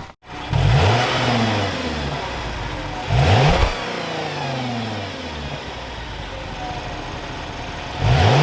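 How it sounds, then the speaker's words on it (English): A Lexus GS350 with dual chrome exhausts revving: a mid-pitched engine rises in three sharp throttle blips, with a steady idle between them, heard close and with no talk. "It does have dual chrome exhausts. I'll try to get an exhaust clip for you."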